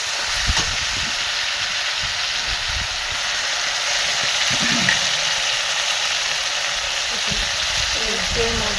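Spice masala frying in a pan with a little water, giving a steady broad sizzling hiss throughout, with a voice talking underneath.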